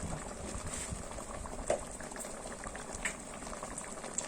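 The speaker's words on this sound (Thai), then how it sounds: "เริ่มเดือดแล้วค่ะ" A pot of fresh bamboo shoots with pork belly coming to a boil, a close, even bubbling and burbling of simmering liquid with a couple of small clinks, no talk.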